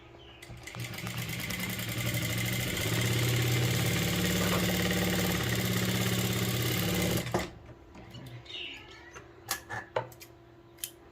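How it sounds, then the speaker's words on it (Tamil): A sewing machine stitches the sleeve fabric of a blouse in one continuous close run that hums for about seven seconds, then stops, followed by a few scattered handling clicks. "இப்படி ஸ்டிச் பண்ணி திருப்பிக்கிடலாம்"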